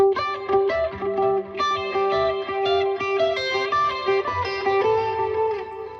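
Distorted electric guitar plays a melodic line of sustained notes with a shimmering chorus effect, fairly loud and close, no voices.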